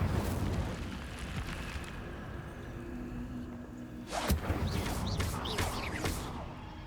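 A fire spell cast in Hogwarts Legacy: a sudden whooshing burst of flame with a crackling rush that fades out, following a stretch of steady low game rumble.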